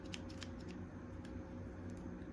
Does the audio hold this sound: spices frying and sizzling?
no